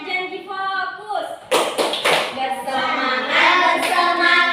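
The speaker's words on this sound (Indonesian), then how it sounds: "ayo kita tepuk janji fokus dulu ya" Rhythmic hand claps and taps from a classroom of pupils run between stretches of chanting voices, the claps loud and close, marking out the tepuk janji fokus clapping routine.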